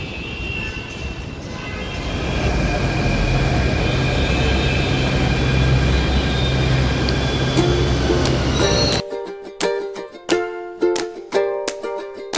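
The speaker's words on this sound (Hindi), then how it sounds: "तो ये हमारी मेट्रो आ रही है" Metro train pulling into a station in Jaipur, a loud steady rumble and hum building for about nine seconds before cutting to quieter, uneven platform sounds.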